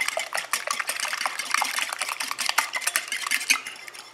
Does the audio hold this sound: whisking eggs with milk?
yes